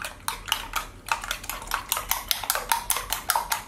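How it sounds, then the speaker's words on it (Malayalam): Eggs being beaten briskly in a bowl for a bread omelette, a fast run of close, sharp clinks and taps of a utensil against the bowl with no talking. "അപ്പോൾ ഇതെല്ലാം നന്നായിട്ടൊന്ന് ബീറ്റ് ചെയ്തെടുക്കണം, നല്ല പതഞ്ഞ് വരുന്ന വിധത്തിൽ ചെയ്തെടുക്കണം."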